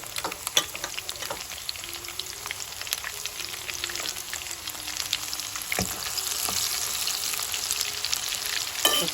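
Onion and vegetables fry in hot oil for sambar, a steady crackling sizzle with scattered sharp pops and stirring scrapes, close and fairly quiet, with no talking.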